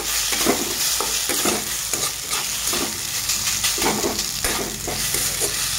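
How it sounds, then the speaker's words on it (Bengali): Potatoes sizzle steadily in a pan over high flame while being stirred, with repeated scraping strokes over a continuous close, loud frying hiss and no voices. "আলুটাকে আমি নাড়িয়ে করে ভেজে নেব"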